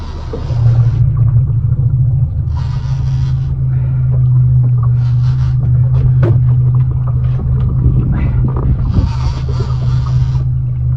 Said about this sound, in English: All I do, start that engine.